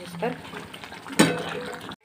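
Water at a rolling boil in a pot on a home kitchen stove while upma is being made. Steady bubbling runs under a talking voice, with a sharp clatter near the middle.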